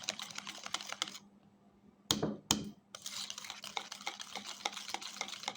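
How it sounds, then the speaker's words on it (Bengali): Butter cookie dough is stirred in a bowl with clicking, scraping strokes, close and quiet, pausing briefly partway before a couple of louder knocks and then continuing. "এখন এইটাকে ভালো করে কয়েক মিনিট এভাবে নেড়ে ছেড়ে"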